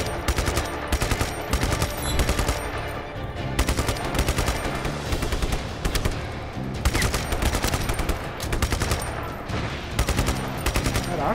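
Gunfire at a military base in the video game Just Cause 3 rattles in repeated rapid bursts, loud and punchy, with short gaps between volleys throughout.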